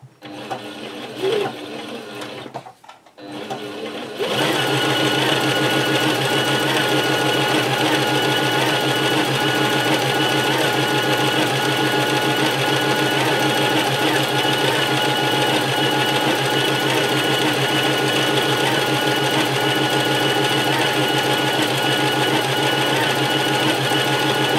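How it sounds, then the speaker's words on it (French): A sewing machine stitches a matching seam on the other side of a beginner's tote or beach bag. A few seconds of quiet handling come first, then a loud, steady, continuous mechanical whir with fast rhythmic stitching. "je vais réaliser la même couture de l'autre côté pour avoir quelque chose de symétrique"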